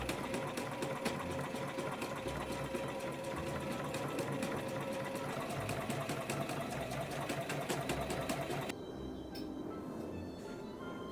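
A sewing machine runs continuously, stitching thick fabric for a handmade plastic bottle case, with a rapid steady mechanical whir that drops to a quieter, slower hum near the end.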